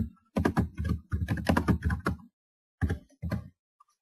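Typing on a computer keyboard while entering a blog post title: close, quick clusters of keystroke clicks in two bursts separated by a short pause.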